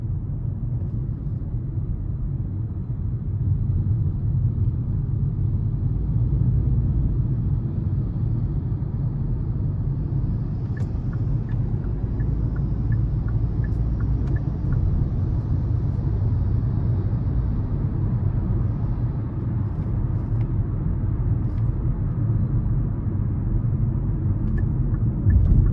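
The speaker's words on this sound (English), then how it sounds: "the car is very peppy for it to be a naturally aspirated 4-cylinder" A 2021 Kia Soul LX with a naturally aspirated four-cylinder engine drives along, its steady low engine drone and road rumble filling the cabin continuously with little change in pitch.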